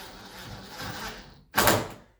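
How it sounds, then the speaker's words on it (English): An interior door swinging shut after a hinge replacement, a soft rushing sweep followed by one solid thud of the door meeting its frame, close by, with no talking. "we're going to put this last screw in and see if the door actually closes"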